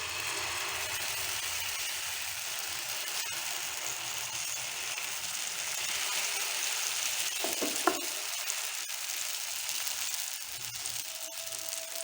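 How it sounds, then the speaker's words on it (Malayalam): Dosa batter poured onto a ghee-greased pan sets off a steady broadband sizzle that runs the whole time, with a brief scrape or clink near the middle and no voices. "ഇനി നമുക്ക് നമ്മൾ തയ്യാറാക്കി വച്ചിരിക്കുന്ന ബാറ്റർ ഇതിലോട്ട് ഒഴിച്ചു കൊടുക്കാം."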